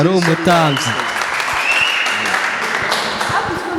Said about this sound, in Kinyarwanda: Amashyi menshi, amashyi menshi, amashyi menshi.